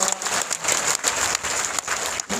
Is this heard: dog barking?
no